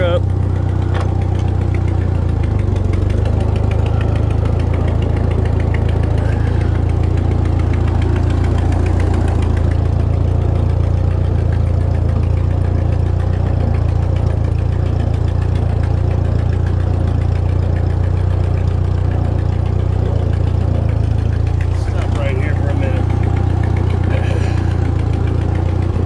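An old Jeep's engine runs loud and close as it backs up, a steady low rumble with a knocking, vibrating quality that holds throughout, with a brief change in tone near the end.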